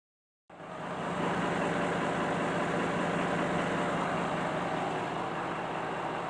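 A Volkswagen Touareg V10 TDI diesel engine fires up after half a second of silence and settles into a steady, loud, close idle, a dense even rumble that holds unchanged to the end.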